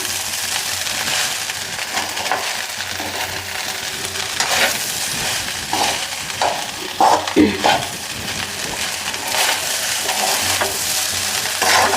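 Vegetable fried rice frying in a pan, a steady broadband sizzle throughout with scraping stirs and a few louder clatters of a utensil against the pan midway, close and fairly loud, no talk.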